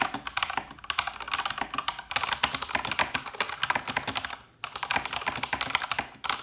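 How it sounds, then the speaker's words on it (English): Rapid mechanical keyboard typing on TTC Speed Silver switches, a dense stream of crisp clicks and clacks with a brief pause near the end, close and steady, no voices. "I think it's the TTC Speed Silver. Here's a sample of what they sound like."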